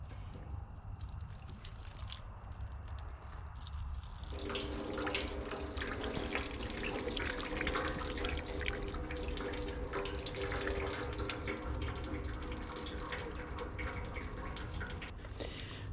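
Water pours steadily from an Oliver 88 row crop tractor during a water pump replacement on a farm, a continuous near splashing flow that starts suddenly and keeps running loud with no talk.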